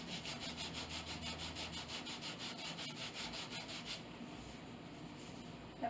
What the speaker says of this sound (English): I'm just going to run my sandpaper over top